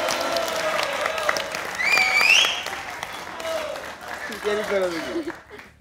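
A studio audience on a Pakistani cricket quiz show applauds, with steady clapping running under a host's voice and bursts of laughter and chatter, the applause thinning out near the end.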